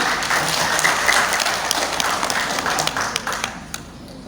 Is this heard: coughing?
no